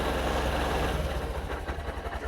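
A Honda CB125F motorcycle engine idles at low revs, a steady, close low rumble that holds level throughout with a slight dip near the end.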